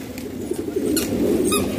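Pigeons coo in low, soft warbling calls close by, with a few light flutters and chirps over them.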